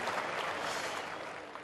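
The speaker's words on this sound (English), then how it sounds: "Go ahead, you can clap." Stadium audience clapping at a ballpark event: a faint, diffuse patter of many distant hands, steady and soft, tapering slightly at the end.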